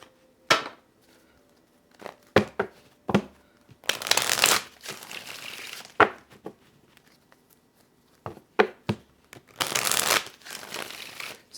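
A deck of tarot cards being shuffled during a love reading, heard as scattered papery riffles and slaps in short bursts with quiet gaps between them, close and fairly crisp.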